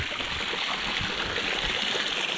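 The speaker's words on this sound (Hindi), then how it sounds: "पूरे फोर्ट पे एक झरना मिला" Steady, loud rush of a small monsoon waterfall stream at Sinhagad Fort near Pune, a continuous broadband splash of falling water heard up close with no talking.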